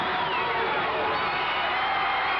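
A wrestling arena crowd at a 1985 televised match roars and cheers in a steady, dense wash of noise with no break, loud and continuous.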